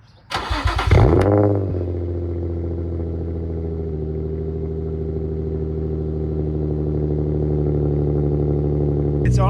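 A Nissan G35 drift car with a VQ35DE V6 and aftermarket exhaust fires up with a loud burst, then settles into a steady, throaty idle close by, ending with a brief blip of revs.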